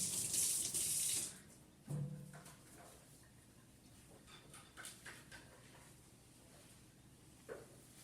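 Tap water runs and splashes into a sink during handwashing before cooking, loud for about a second, then trailing into quieter handling noises and soft clinks.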